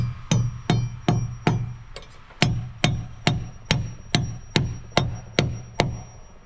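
A hammer drives 1.5-inch galvanized hanger nails into a metal joist hanger during a tiny house build, giving about fourteen sharp, ringing blows at a steady rhythm, close and loud, with no talk.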